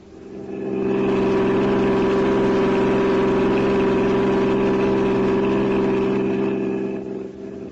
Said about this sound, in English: I drove to the first address, the Empire Theater, asked for Henry Gordon